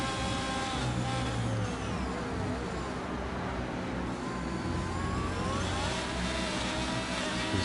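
Formula One race cars in a sim racing game at the Red Bull Ring in Austria, high-pitched engines revving and shifting continuously as the cars run close together, a steady whine rising and falling.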